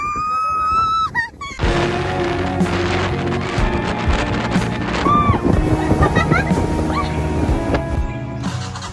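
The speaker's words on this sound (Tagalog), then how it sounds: "Grabe, lakas ng alon guys." Strong ocean waves crash and churn, with heavy wind buffeting the microphone and a rushing wash of water throughout.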